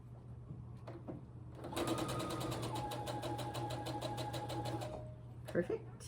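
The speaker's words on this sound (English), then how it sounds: "Now we're gonna sew from the opposing corner over here down to the middle." Sewing machine stitching fabric diagonally from one corner to the middle of a quilt block, running in a steady, rapid mechanical chatter for about three seconds, near and moderately loud over a faint background hum, then stopping.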